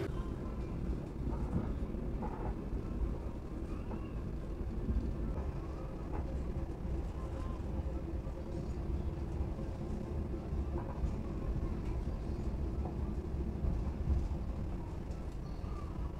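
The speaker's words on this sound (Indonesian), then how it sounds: "rangkaian kereta api Kertanegara telah tiba di stasiun Kepanjen" Kertanegara economy train pulling into Kepanjen station, heard from inside the carriage as a steady low rumble and rolling hum of moderate loudness, with no clear voices.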